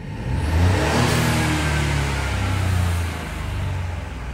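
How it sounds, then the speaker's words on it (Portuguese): A car engine idles and revs loudly up close with both fuel pump hoses removed, a steady mid-pitched hum rising and easing back, no voices. "o carro está sem as mangueiras de combustível e mesmo assim o carro permanece ligado"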